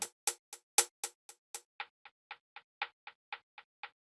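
Dry, unprocessed hi-hats from a trap beat, a steady run of about seventeen crisp ticks, bright and sharp at first, then thinner and softer in the second half, heard alone.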